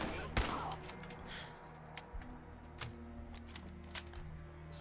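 Faint scattered gunshots in the video game Fallout 4 crack at irregular intervals over a low steady background hum, sounding distant and thin.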